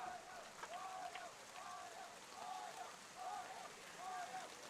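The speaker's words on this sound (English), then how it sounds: "And it's torrential downpour" Torrential rain pours down during a high school baseball game, a steady hissing downpour with a faint, rhythmic pattern of voices, probably commentary, under the rain.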